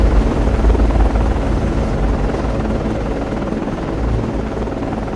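Loud, continuous rotor thrum of an anti-submarine helicopter airborne in the Cold Waters naval game, near and steady throughout with no voices.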